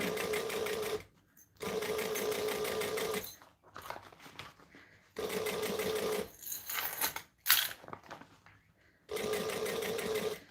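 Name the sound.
sewing machine stitching piping onto fabric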